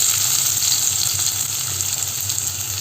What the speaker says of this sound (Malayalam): വെളിച്ചെണ്ണ ഒന്ന് ചൂടായി വരുന്ന സമയത്ത് നമുക്കതിലേക്ക് അരിഞ്ഞു വെച്ചിരിക്കുന്ന ചെറിയ ഉള്ളിയാണ് അത് ചേർത്ത് കൊടുക്കാം